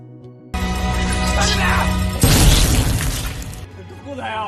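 A sudden loud blast from an explosive collar detonating erupts with a shattering crash, then fades into a rumbling tail, with a voice speaking before and after.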